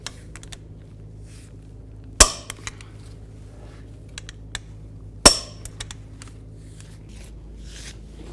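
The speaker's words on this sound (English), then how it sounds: "tighten those caliper bracket bolts to 166 foot-pounds" On a 2008–13 Cadillac CTS front wheel hub, the caliper bracket bolts are tightened. Two sharp metallic clicks sound from a torque wrench a few seconds apart, among faint small ticks, with no talking.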